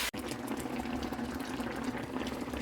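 Chicken feet for adobo simmer in a pot of water, giving a steady close bubbling and gurgling that runs evenly throughout with no talk.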